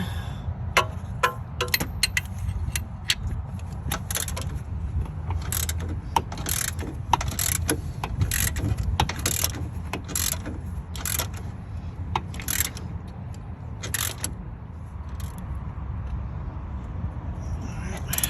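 Ratchet wrench tightening a bolt on the front engine mount of a 2.4L Honda Accord, sharp rapid clicking strokes in short bursts, close and crisp over a low background rumble.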